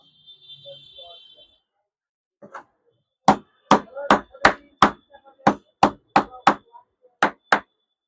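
A hammer strikes a wood block during an electric iron repair, giving about eleven sharp, loud knocks at a fairly steady pace after a quiet start with a few faint taps.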